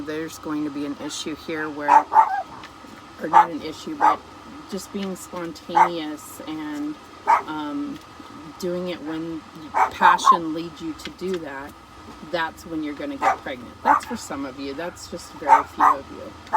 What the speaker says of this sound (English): For those of you that haven't turned off the video because of all the barking